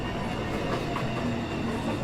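NYC subway 2 express train pulls into an elevated station, its low steady rumble and rail noise filling the space with faint metallic squeals and no talking.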